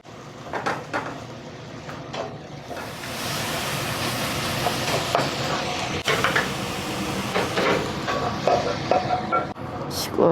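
Shiitake mushrooms being stir-fried in a pan, with a continuous hissing sizzle and occasional clatters and scrapes of a utensil, loud and close throughout.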